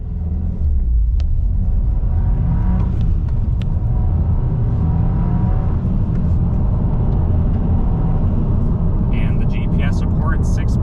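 A 2022 Subaru WRX with a 2.4 turbo engine and 6-speed manual accelerates from a standstill, giving a loud, continuous low engine rumble that builds throughout.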